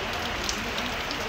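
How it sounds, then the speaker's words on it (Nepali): Heavy rain falls steadily on surfaces near Manakamana, a dense, constant hiss of drops with no pauses and no voices. "पानी पर्यो गाइस पानी पर्यो"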